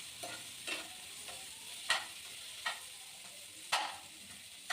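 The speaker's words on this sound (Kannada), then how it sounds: "ಸ್ವಲ್ಪ ಕರಿಬೇವು ಹಾಕ್ತಾ ಇದ್ದೀನಿ. ಹಾಕೊಂಡಿದ ನಂತರ ಮಿಕ್ಸ್ ಮಾಡ್ಕೊಳ್ಳೋಣ." Onions and curry leaves being stirred in a frying pan, a spoon scraping in about five distinct strokes over a soft, steady sizzle, close and moderately quiet with no talking.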